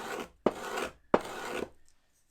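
Sandpaper rubbed hard along the edge of a wooden piece to round it over, giving two long broadband rasping strokes after a short first one, close and fairly loud, then a quiet tail.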